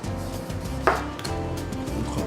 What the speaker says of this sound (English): Tomatoes, I like them cut quite thin.